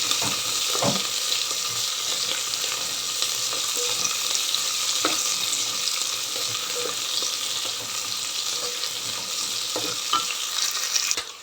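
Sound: onion frying lightly with cumin in pan

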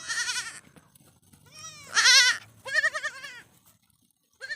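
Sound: goat kids bleating

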